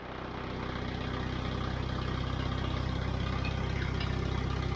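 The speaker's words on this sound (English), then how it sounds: "Always handy when a tractor starts" McCormick Farmall 350 tractor by International Harvester on a windy farm, engine catching and settling into a steady, low, even idle that runs on without a break, no talking.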